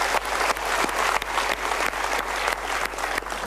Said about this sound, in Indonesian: Coba kita berikan tepuk tangan untuk Ibu Suharsono.